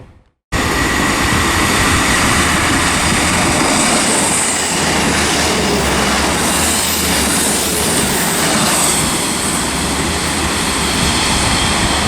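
A Class 450 electric train passes through Weybridge station on the slow line, a loud, sustained roar of wheels and rail noise with faint squeal and clickety-clack, filling the whole stretch after a sudden start.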